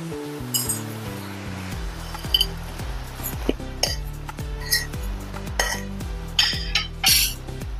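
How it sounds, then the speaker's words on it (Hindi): Spices for pahadi jeera aloo drop into a khalbatta mortar and pestle with scattered light clinks and rattles, close by, over soft background music. "अभी मैंने खलबत्ता लिया है, इसमें हम अपने मसाले डालेंगे"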